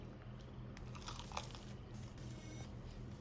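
Crisp crunching bites into a roasted accordion potato, faint and close, a few sharp crackles over a low steady hum, with no talking.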